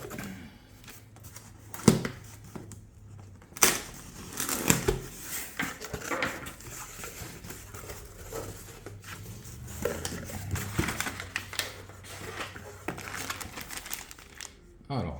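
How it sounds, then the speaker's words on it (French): A parcel of parts for a 1969 Fiat 500 L being opened, loud crinkling and tearing of packaging with rustles and thumps, close, while people talk intermittently. "on a reçu le colis de chez Ricambi, donc avec les pièces pour la Fiat 500. On va ouvrir ça."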